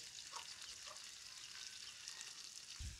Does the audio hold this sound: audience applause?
no